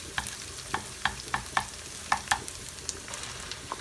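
Carrots sizzle as they go into a browning bolognese sauce in a cast-iron pot, with a steady fry under sharp, rhythmic clicks of stirring against the pot, close and clear.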